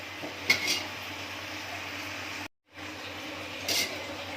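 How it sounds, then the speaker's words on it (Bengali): Malabar spinach (pui shak) frying in a pan while being stirred: a soft sizzle under a few clinks and scrapes of a utensil against the pan, with a brief dropout midway. "তারপরে আমি নেড়ে দিব। নেড়ে আবার নেড়ে দিব।"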